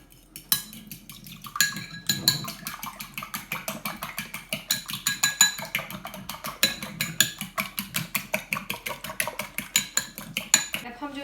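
A whisk or fork clinks rhythmically against a bowl, beating eggs with a tablespoon of vanilla extract for a banana coconut loaf, quick steady strokes ringing close and clear with no talking.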